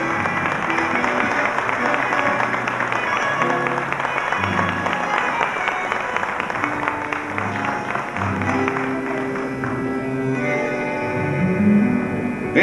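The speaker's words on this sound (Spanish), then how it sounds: "¡Fuerte el aplauso!" A festival audience applauds steadily while music plays over the clapping, the crowd noise holding at a moderate level throughout.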